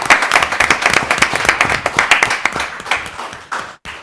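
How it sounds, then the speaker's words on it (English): At a school board budget workshop, an audience applauds the finance team with dense, close-up clapping from many hands that holds steady and then tapers off to a few last claps. "can we just give them a round of applause for all their hard work?"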